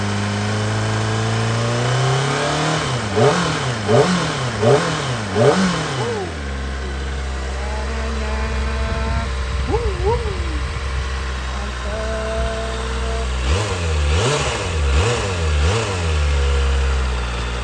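A Kawasaki ZX-25RR four-cylinder motorcycle engine idles smoothly, then revs in several quick bursts, settles back to idle, and revs again near the end, close and loud.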